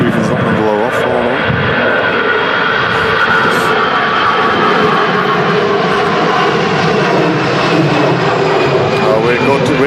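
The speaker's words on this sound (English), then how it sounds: "The BA A Better World special A320 Neo on the shuttle service with BA today." A British Airways Airbus A320neo airliner in a special livery comes in to land at Manchester Airport during storm crosswinds, its steady engine roar loud and continuous over strong wind buffeting, with voices talking in the background.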